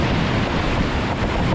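Ocean surf and wind on a winter beach roar steadily and loudly, a dense continuous wash of breaking waves with wind buffeting the microphone, no voices.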